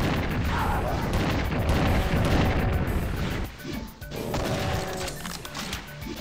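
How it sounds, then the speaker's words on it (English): Heavy rocket explosions boom and crash one after another in Doom II, loud and close, with a brief lull before further blasts and debris rumble. "Because they give you lots of rockets, you might as well use them"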